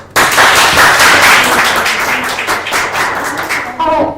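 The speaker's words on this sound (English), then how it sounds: "can we give a round of applause to Elino right now?" Audience applause at a stage performance event, a loud burst of crowd clapping starting abruptly and continuing steadily, with a voice briefly heard at the end.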